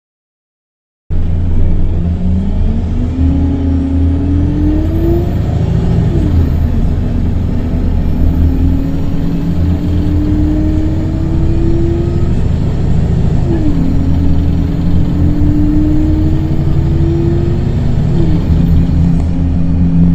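A bus in west England heard from inside, a loud constant engine drone and road rumble with a whining tone that rises and drops as the gears shift, with nobody talking.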